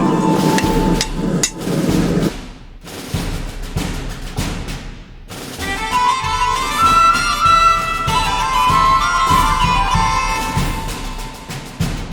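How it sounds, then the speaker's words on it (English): Hand hammer blows forge a pipe tamper head flat into a disc: several sharp metallic strikes at the start, a pause, then ringing, resonant metal tones as work continues, loud and close. "We're just going to start forging it flat down, and we're just going to leave it as a flat disc"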